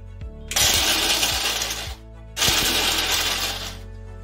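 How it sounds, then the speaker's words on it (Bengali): A mixer grinder pulses dry makhana (fox nuts) in its jar in two loud, whirring, rattling bursts of about a second and a half each, separated by a short pause. "মাখানাটাকে গুঁড়ো করে নিয়ে আগে মিক্সিং জারে নিয়ে নিয়েছি, এবার এটাকে গুঁড়ো করে নেব।"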